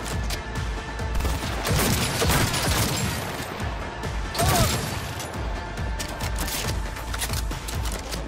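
Hand cannon gunfire in the video game Cyberpunk 2077: loud, dense bursts of shots and crashing impacts that roll on without a break across the whole stretch, heavier around the middle.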